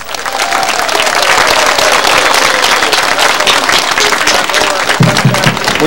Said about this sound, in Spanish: señor Ollanta Humanatazo, a quien recibimos con muy fuertes palmas.